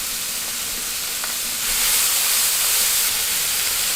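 Capsicums and green beans sizzling in a hot pan while cooking for noodles, a steady broad hiss that swells a little louder partway through, constant and close with no talking.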